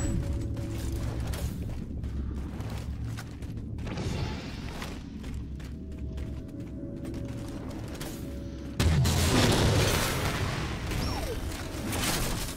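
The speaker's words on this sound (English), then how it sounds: "Incineration cannon!" Video game weapon fire and mechanical clanks over a rumbling background, ending in a loud incineration cannon blast that boosts the noise for several seconds.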